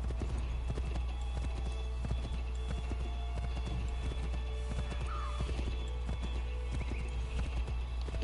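Rapid clip-clop of galloping video game horse hooves pounds steadily throughout, with a brief whinny midway and a constant low rumble underneath.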